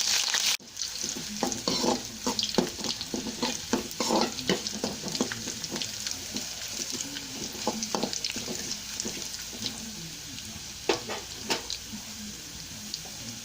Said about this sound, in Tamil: கடுகு நல்லா பொரிஞ்சோன்னா சின்ன வெங்காயம் ஆட் பண்ணிக்கோங்க. கொஞ்சம் கருவேப்பிலை.